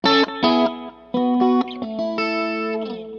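Bright electric guitar on the bridge pickup with the tone fully open, a few twangy chords and notes, some clipped short, others left ringing.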